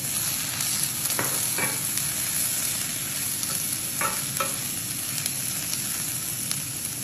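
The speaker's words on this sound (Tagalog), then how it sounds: "Put na yung onion, isusunod ko na itong ginger at garlic." Onion, ginger and garlic frying in a pan, a steady bright sizzle with occasional spatula scrapes and taps, moderately quiet and close.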